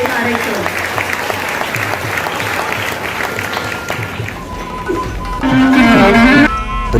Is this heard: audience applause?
yes